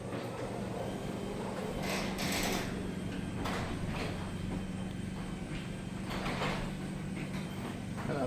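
A Chamberlain RJO101MC wall-mounted garage door opener runs in a garage with a steady, moderately loud motor drone and hum. Faint clicks and knocks from the moving door sit over it throughout.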